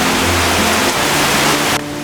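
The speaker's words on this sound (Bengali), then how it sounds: "সময় যতই যাচ্ছে ততই দেখতে পাচ্ছি বৃষ্টির তীব্রতা অনেক বাড়ছে, তার সাথে বাতাস।" Heavy rain driven by wind in a village, a loud, continuous roar of falling water close by, steady throughout before dropping off abruptly at the end.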